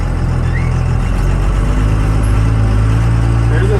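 A first-generation Cummins diesel idles steadily up close, a deep even rumble with no break, while faint voices murmur in the background.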